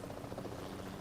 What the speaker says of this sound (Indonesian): Kencang helikopternya ya.